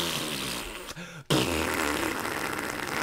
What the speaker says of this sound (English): You can't get the elongated fart sounds out of your video.